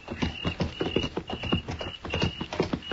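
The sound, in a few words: horses walking, hooves clip-clopping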